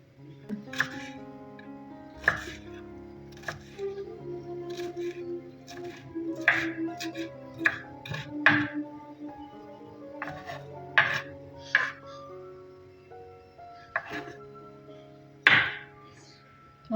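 A knife finely chopping onions on a board for an egg sandwich, with irregular sharp taps spread over a quiet, steady tonal background.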